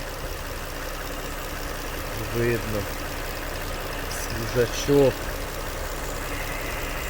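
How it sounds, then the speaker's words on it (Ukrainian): A Japanese car engine with VVEL variable valve lift idles with a knock from around the second and fourth cylinders, a steady close hum under brief bits of speech. "стук з мотора десь у нас з району другого, четвертого циліндру стук"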